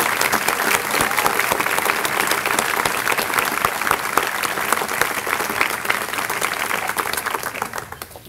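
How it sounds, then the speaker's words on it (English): Sustained applause for award winners at an upper school commencement, a large audience clapping steadily with crisp individual claps audible, tapering off at the very end. "Can we give all of our award winners one more round of applause"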